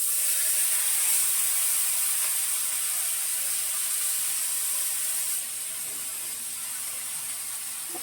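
Marinated meat is added to a hot pan of whole spices and sizzles with a steady, close, bright hiss of steam and frying, easing slightly partway through.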